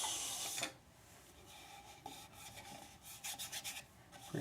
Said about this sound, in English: Nice little powdery shavings coming off.